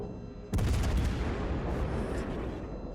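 Warship guns fire in World of Warships Legends from the Zao cruiser, a sudden heavy salvo that booms out loud and close, then rolls into a long fading rumble.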